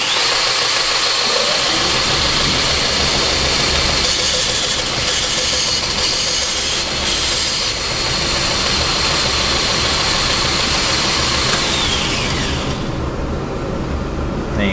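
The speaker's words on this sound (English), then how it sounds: "just hit that on the flat part of the grinder and just take off and make sure that it all lays up nice and parallel again" The flat section of a belt grinder runs loudly and continuously against knife handle scales, a dense whirring drone whose brighter edge drops away near the end.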